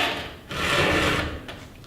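A hand file rasps across a chainsaw tooth during freehand sharpening, a single close, gritty stroke swelling and fading over about a second.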